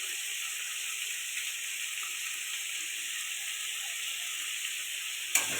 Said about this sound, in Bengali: একটু কষাতে থাকবো